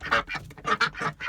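Backyard ducks quack in a quick series of five or six loud, nasal calls, close by and with no talking over them.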